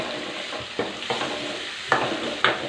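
Onion, curry leaves, green chillies and turmeric frying in a pan for an egg and coconut poriyal, with a steady sizzle broken by several sharp scraping stirs of a spoon against the pan, close and loud.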